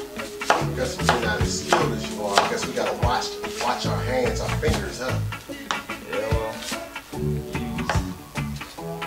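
A knife chops an onion on a cutting board for Jamaican-style curry chicken, giving quick, irregular knocks and taps close by, while a voice talks over the chopping.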